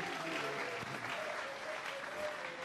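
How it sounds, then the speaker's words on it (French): A church congregation claps loudly at a pastor's service, producing a dense, continuous wash of applause that holds steady from start to end, with faint voices mixed into the crowd. "Acclamons très fort."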